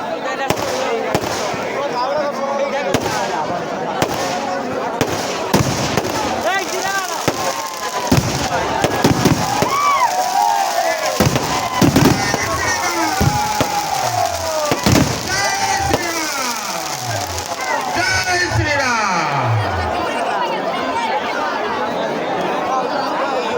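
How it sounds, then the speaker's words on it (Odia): Tree fireworks at an open-air Ravan festival in Jarapada, Angul, crackle and burst repeatedly with descending whistles, loud and close, while a crowd chatters and a voice calls over a loudspeaker. "ଗଛ ବାଣ ଜଲ୍ଦି ଫୁଟାଅ।"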